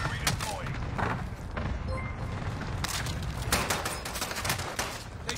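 Rapid video-game gunfire, volleys of close sharp shots and thuds rattling almost continuously, loud and busy, with voices talking over parts of it.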